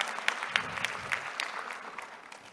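An audience at the Kigali Convention Center applauds President William Ruto: steady, dense clapping from many hands that fades slightly toward the end.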